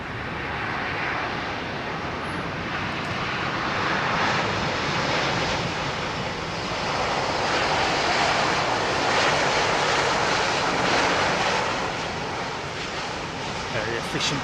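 An Airbus A350 jet landing on runway 27R at London Heathrow, a loud continuous roar of engines and braking that swells and holds steady for the whole stretch, with wind rumble underneath.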